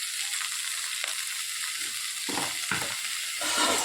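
Spices and coriander sizzle steadily in hot oil in a home kitchen, a continuous close frying hiss with a few stirring scrapes and no talking.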